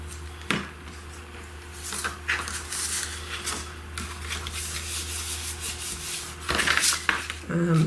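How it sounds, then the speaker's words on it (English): A bone folder rubs firmly over glued paper envelope flaps, giving a steady scraping swish across several seconds, close by, with a few sharper knocks and handling sounds and a faint background hum. "I tend to use my bone folder to just help bring everything together."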